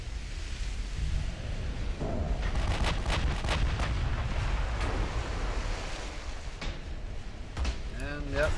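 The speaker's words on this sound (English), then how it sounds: "That's one salvo." Heavy battleship guns fire a salvo in the naval video game Ultimate Admiral Dreadnoughts, with a Montana-class battleship among the ships. Deep booming blasts roll over a constant ocean and wind rumble while someone talks.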